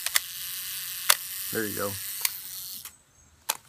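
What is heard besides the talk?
35mm film camera self-timer and shutter firing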